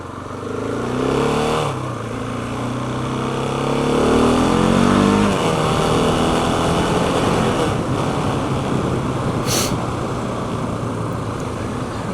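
A Husqvarna 701 motorcycle engine revs up through its exhaust, climbing in pitch then settling into a loud, steady rumble close by.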